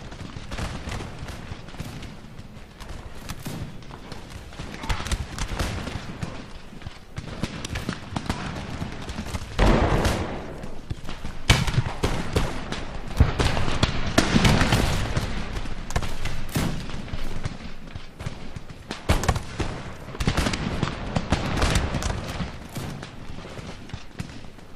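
Dense, continuous musket fire from a battle in the video game Empire Total War: overlapping volleys and booming artillery crackle and rumble at a steady intensity throughout, with no speech.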